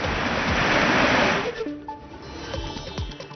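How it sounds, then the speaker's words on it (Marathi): Valheri waterfall flowing after rain in Sindhudurg, a broad steady roar of falling water for over a second that then drops to softer rushing with a few faint tonal sounds in the background. "वाल्हेरी धबधबा प्रवाहित झाला"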